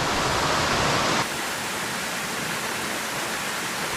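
Palatuvier Waterfall in Tobago, a very small waterfall, gives a steady, loud broadband rush of falling water up close, with a slightly brighter, heavier stretch at the start before settling into an even roar.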